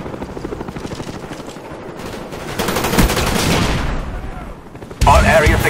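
An attack helicopter, the Cobra killstreak in Call of Duty: Black Ops multiplayer on the Firing Range map, whirs loudly amid dense bursts of gunfire and explosions that grow heavier toward the end.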